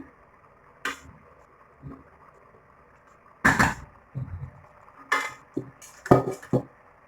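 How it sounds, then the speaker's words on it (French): Cooking pan scraped with a silicone spatula while preparing saffron chicken vermicelli, giving several short scraping and knocking bursts with quiet gaps between them, close and moderately loud. "je fais avec la maryse parce que c'est plus pratique. Ça enlève bien ce qui est collé sur les bords"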